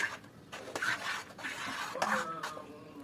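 Hibiscus leaves stirred in water, giving a repeated scraping, rasping swirl against the container at close range, with uneven strokes across the clip and no talk.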